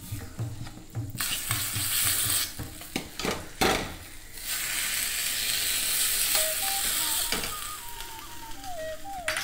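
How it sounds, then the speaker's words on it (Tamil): Cashew nuts fry in ghee in a ladle for rava kesari, a steady close sizzle broken by metallic stirring clinks and scrapes of utensils against the pan, with no one speaking. "முந்திரி பருப்பு வறுபடுறது செவந்தெடுத்து நம்ம வந்து கேசரியில் சேர்த்துடலாம்."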